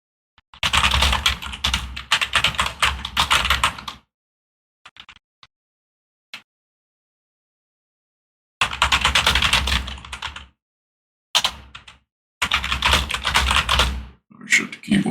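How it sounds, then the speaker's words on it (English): Computer keyboard typing in bursts of rapid, close clacking keystrokes, with pauses and a few isolated taps between runs, loud and alone. "You can hear my keyboard?"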